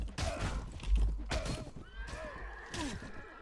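Horses neigh and whinny amid galloping hooves of cavalry in a Mount and Blade: Warband castle battle, several loud whinnies rising and falling over a steady clatter of hoofbeats.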